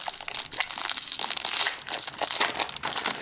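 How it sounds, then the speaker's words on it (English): Protective plastic film being peeled off a new Amazon Kindle Fire HD 7-inch tablet, a continuous close crinkling and crackling that stays loud for several seconds with short bursts of tearing. "Sans the plastic, so let's peel that off."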